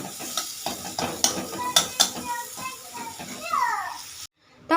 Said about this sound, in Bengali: মশলাটা আগে ভালো করে একটু কষিয়ে নিই, কষিয়ে নিয়ে এর উপরে মাছটা দেবো।